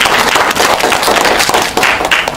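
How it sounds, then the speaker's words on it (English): Audience applause at a talk on twenty years of English education, a dense steady wash of many hands clapping at close range with scattered sharper claps and no voices. "go ahead, give yourself a round of applause on 20 years English education"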